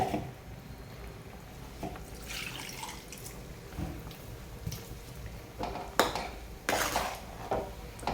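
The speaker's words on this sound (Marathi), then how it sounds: "आता एकदा छानपैकी मी हलवून घेते" Bottle gourd curry with green chilli and a roasted peanut paste is stirred in a pot, giving soft, scattered clinks of a spoon against metal and faint watery drips, quiet and close, with no talking.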